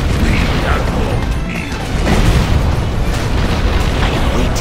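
Booming cannon fire from the Command & Conquer real-time strategy game, Contra mod, a dense continuous wash of heavy blasts and mechanical battle noise, loud throughout with a faint voice line mixed in.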